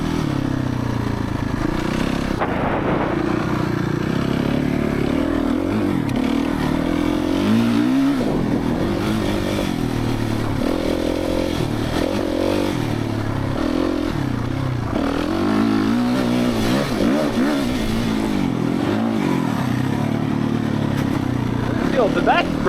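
A Suzuki RMZ450 motocross bike is ridden hard through a wash, the engine roaring and revving continuously with clattering and scraping underneath and occasional talk over it.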